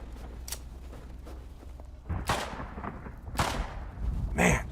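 Gunshots ring out in the Rust video game as a few sharp cracks spread across several seconds amid game background noise, the last one loudest and closest.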